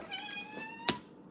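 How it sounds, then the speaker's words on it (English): A house cat named Raven gives a single faint, clear meow followed by a short sharp noise, heard alone in a quiet room. "It's my cat, Raven."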